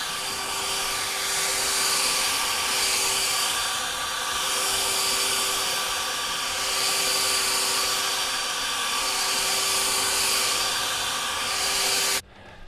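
A blower pushes lawn product off a concrete driveway with a loud, steady roaring whoosh and faint tonal whine, up close, swelling slightly and cutting off at the end.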